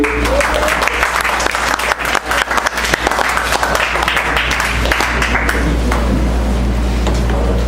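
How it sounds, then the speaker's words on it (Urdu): Loud, sustained applause from a school audience welcoming a student speaker at an annual speech competition at Pakistan International School in Al-Ahsa; thick crowd clapping holds steady throughout with a constant low hum underneath. "بھرپور تالیوں میں استقبال کیجیے"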